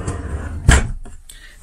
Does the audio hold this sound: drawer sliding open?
yes